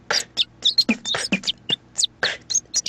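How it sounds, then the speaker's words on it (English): Short birdsong fragments stitched together by concatenative synthesis form a choppy sequence of chirps and whistles, each brief burst separated by gaps, fairly quiet and isolated. "Here's how this concatenation sounds with the target and the birdsong corpus."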